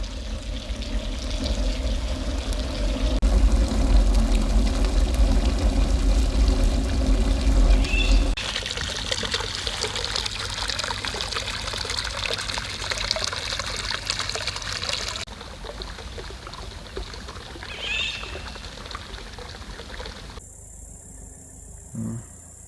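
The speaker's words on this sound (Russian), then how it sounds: "Слева вода течет, справа огонь горит." Water pours and trickles in a steady, loud, continuous flow at a farmstead, with the tone shifting across several segments and an engine rumbling faintly beneath.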